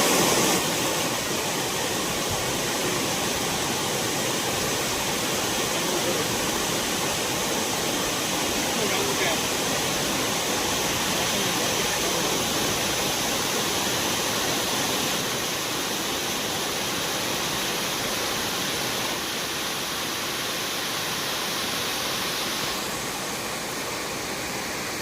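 A river in Gir forest gives off a steady, broadband rush of flowing water, loud and close throughout with no break.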